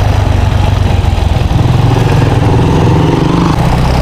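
On a rural provincial road in the evening, a tractor engine runs loud and close, chugging steadily with a throbbing low rumble and no pause.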